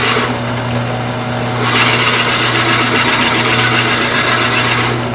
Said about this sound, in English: depending on the power of your lathe, you have to take this in little short bites